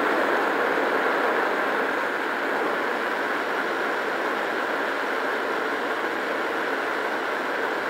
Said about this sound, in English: Yeah, that has more of a road noise sound to it now rather than a dirty growl.